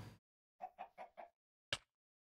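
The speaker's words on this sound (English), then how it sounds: "That's a chicken." Chickens clucking in a Minecraft ATM9 Skyblock game: a run of four quick clucks followed by one sharper squawk, fairly close, with short silent gaps and no talk.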